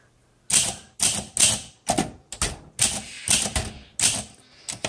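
A 1952 Olympia SM3 manual typewriter is typed on, giving about nine crisp, loud key strikes in an uneven rhythm with short pauses between them, close up and alone.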